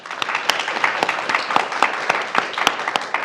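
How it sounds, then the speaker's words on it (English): An audience at a ballot-amendment panel discussion claps to vote, a sparse scattering of distinct hand claps at an uneven rhythm, moderately close, lasting a few seconds. "Clap if you're against the amendment."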